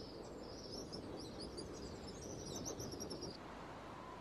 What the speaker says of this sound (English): Red-winged starlings mob her as she starts off.